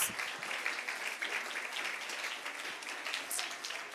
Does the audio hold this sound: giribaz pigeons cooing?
no